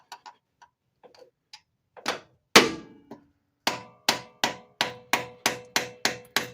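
A body hammer taps a flathead screwdriver to pry loose the oil pan on a Geo Metro 1.0 engine, starting with light scattered ticks and building into a steady run of sharp metallic strikes, close and clear.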